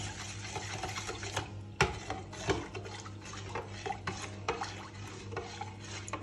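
A spoon scrapes and clinks steadily around a container, stirring salt to dissolve it in water, a continuous rattle with occasional sharper taps against the sides.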